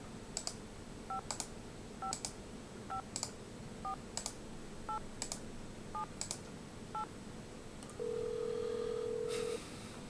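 A hospital phone number is dialed in a Nancy Drew video game: a steady run of about ten evenly spaced, clean keypad beeps, followed by a longer held tone at the end.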